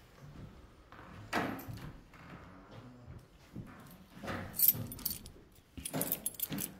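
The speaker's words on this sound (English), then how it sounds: "I am returning these keys" Bunch of keys jangling close up in a quiet room, with several irregular bursts of metallic rattling and clinking separated by softer handling noise.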